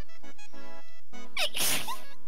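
One sharp, loud human sneeze close to the mic, after a short moment of quiet voice sounds, during a tabletop role-playing game session.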